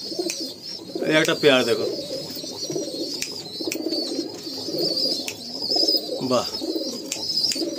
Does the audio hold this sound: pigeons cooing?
yes